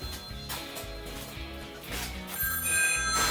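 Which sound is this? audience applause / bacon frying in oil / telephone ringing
telephone ringing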